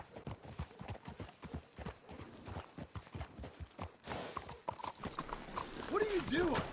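Horse hooves clop in an even walking rhythm in the video game Red Dead Redemption 2, fairly quiet and close, with a horse neighing briefly toward the end.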